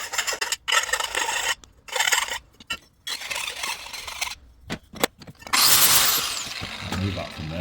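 A hand file rasps back and forth across a metal motorcycle exhaust part in repeated rough strokes broken by short pauses, close by, with a voice talking intermittently.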